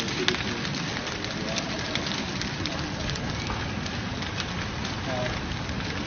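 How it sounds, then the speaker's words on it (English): Wood crackling as a ski lift station burns at the Chamonix resort, a steady dense hiss of pops and sputters heard from some distance, even and continuous throughout. "You can just hear the crackle of wood"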